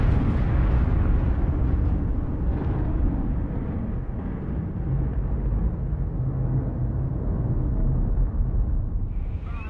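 A massive chemical reactor explosion at T2 Laboratories becomes a long, loud, deep roaring rumble that holds steady for about ten seconds with no distinct onset, heavy in the low range and heard alone.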